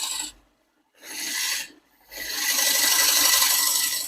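A wooden bowl on a lathe takes refining cuts toward a rough diameter, producing a loud raspy scraping in three bursts, the last one longest, separated by brief silences.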